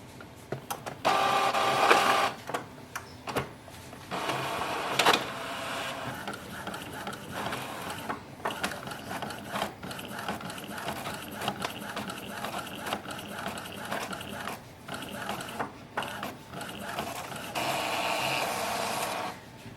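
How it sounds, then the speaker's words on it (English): Epson EcoTank ET-4850 inkjet printer running a nozzle check sheet, with steady mechanical whirring, carriage movement and paper feed, in repeated bursts of moderate loudness. "Now we will print the nozzle check sheet."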